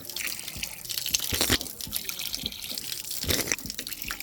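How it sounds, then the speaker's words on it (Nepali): Water trickles and splashes out of a gourd vessel in a park, a continuous close pouring flow with irregular louder spatters and no voices. "चिन्डोबाट पानी झरेको"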